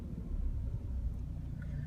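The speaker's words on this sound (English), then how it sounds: "You see it sounds pretty good for a 2-liter car." A 2012 Ford Focus with a 2-liter engine idles steadily with a low, even rumble, close by and continuous.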